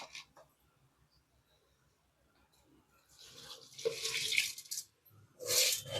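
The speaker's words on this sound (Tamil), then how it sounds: "தண்ணி நல்லா கொதிச்சிருச்சு நம்ம அரிசி போட்டுக்கிடலாம்" After a near-silent stretch, two bursts of splashing and hissing water as rice is poured into a pot of boiling water, close by.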